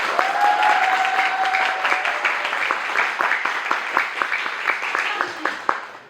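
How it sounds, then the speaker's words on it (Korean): A theatre audience applauds during a musical's closing-week stage greeting for two cast members, dense clapping that thins into scattered individual claps toward the end, with brief voice traces underneath. "박수 부탁드립니다."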